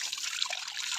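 Water from a tank runs out through a hose in a steady, close trickle with a bright splashing hiss, heard alone.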